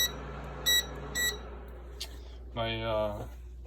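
An induction cooker beeps twice in quick electronic tones, followed by a longer, lower buzzing tone near the end, with a faint hum underneath.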